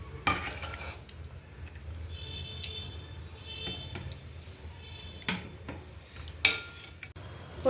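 Peas and boiled potatoes being mixed in a bowl give off soft scraping, clinking and tapping of a utensil against the dish, irregular and close, with faint background hum.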